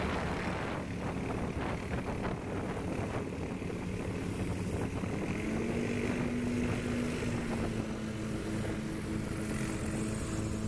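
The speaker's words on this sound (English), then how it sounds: "Excited to see Joel flying a beautiful 172 tail dragger." Cessna 172 tail dragger at a STOL practice event in Jennings, Louisiana, its propeller engine droning steadily at a distance under broad outdoor noise, with a faint rising engine tone midway.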